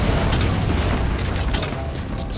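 Continuous rumbling bombardment explosions roll through the video game Metal Gear Solid 5 Phantom Pain, a dense, heavy, booming barrage that stays loud throughout with no talking over it.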